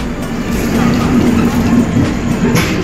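A Kamrup Express passenger train travelling from Kolkata toward Dimapur, heard from inside the carriage as a loud, continuous rumble with a steady mechanical hum and faint rhythmic wheel clatter.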